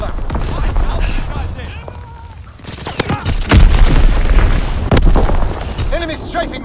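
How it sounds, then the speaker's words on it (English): Heavy booming bomb explosions in the World War II shooter Call of Duty WW2 during online multiplayer, loud rumbling blasts layered over dense battle noise with a radio-style voice announcing in-game alerts. "Enemy bomb incoming, get to cover!"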